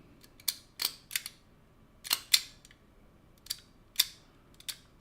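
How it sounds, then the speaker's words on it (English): Small stapler without staples clicked repeatedly up close, sharp dry mechanical snaps in an uneven rhythm against near silence. "My little stapler without staples."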